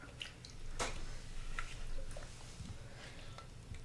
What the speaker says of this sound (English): All you have to do is pour the topping all over.